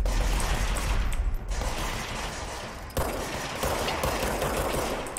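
Rapid bursts of automatic gunfire from an enemy in the video game Control rattle loudly and continuously, close and dense, with a short sharp break partway through.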